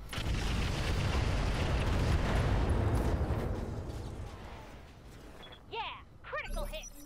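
Mech weapons fire in the Roguetech video game, a loud rolling blast of explosions that fades over several seconds before a few sharper zapping effects.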